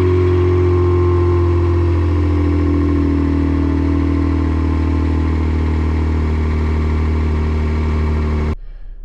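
A 2019 Kia Stinger GT AWD's 3.3-liter twin-turbo V6 hums steadily under load with an 8-speed automatic, a loud, even drone that rises slightly in pitch, then cuts off abruptly at the end.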